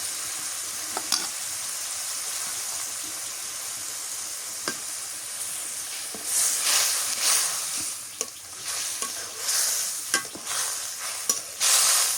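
Garlic paste frying in a pan for a kalbaus fish curry in a village kitchen, with a constant bright sizzle and scattered clicks and scrapes of stirring that grow busier partway through.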